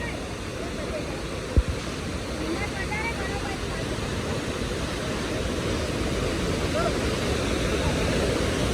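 A steady, dense roar of the Kapildhara waterfall at Amarkantak fills the whole stretch, broad and continuous, with a brief knock near the start.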